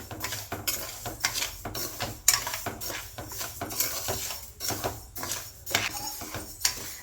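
Ragi (finger millet) dry-roasting in a pan, a spoon scraping and clinking against the metal in repeated stirring strokes, close and moderately loud, with no talk.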